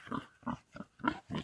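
Pigs on a rural property grunt in a series of five short, low oinks spaced about evenly apart, fairly faint and close by.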